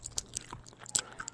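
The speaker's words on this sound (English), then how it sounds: "Crunch of eating your breakfast." Crunchy breakfast food being bitten and chewed up close, a quick irregular series of crisp crunches with small mouth clicks between them, no talk.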